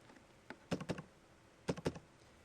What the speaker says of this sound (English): As I start to type in the property information, it's doing a search on the right-hand side.